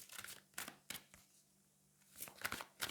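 Angel oracle cards being shuffled by hand in quick bursts of crisp riffling and flicking, with a short quiet pause in the middle before the shuffling resumes.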